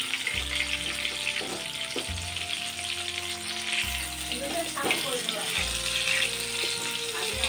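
Battered tomatoes sizzling in hot oil as they are turned over, a continuous bright crackling fry with a few soft knocks from the flipping, steady and close throughout.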